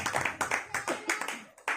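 A church congregation claps for the Lord in a run of quick, uneven bursts of handclaps, close and moderately loud, with short gaps between the clusters.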